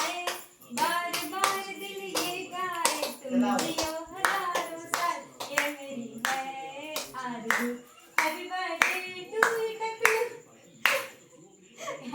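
Loud, close hand claps come in repeated rhythmic bursts as people clap together, with voices, including a child's, talking throughout, at a family Karva Chauth puja held alongside a birthday.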